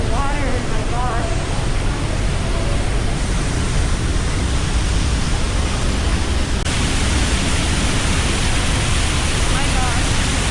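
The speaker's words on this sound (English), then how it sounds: "All you can hear is just like the immense power happening in the tunnels. And you hear the water, oh my gosh." Niagara Falls water rushing through tunnels in November, a loud, constant, broadband roar that fills the whole stretch without letting up, with a faint voice briefly audible near the start.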